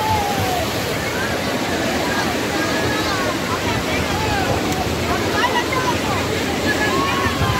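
Sea waves at Digha beach during a boat ride, a loud continuous rush of surf and water mixed with wind buffeting close to the microphone, with no clear breaks.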